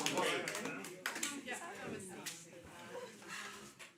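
Audience at a film premiere screening clapping, a brief burst of applause that fades to scattered claps, with voices talking over it.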